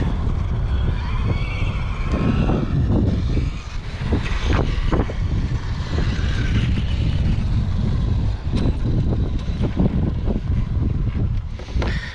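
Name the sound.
stock Traxxas XRT RC truck running at full speed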